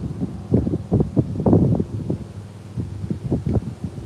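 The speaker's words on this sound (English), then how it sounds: "The wind just blowing it like super hard." Strong wind gusts over a private pond on a windy day, buffeting the microphone in loud, irregular rumbling bursts with brief lulls between them.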